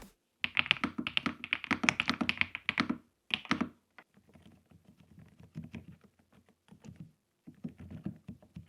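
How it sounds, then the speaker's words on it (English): Typing on an Epomaker TH108 V2 Pro full-size keyboard with linear switches, rapid bursts of soft, muted clacks in uneven runs with short pauses between, close up and moderately quiet, no voices. "Linear switches offer a smooth, consistent, and quieter keystroke from top to bottom"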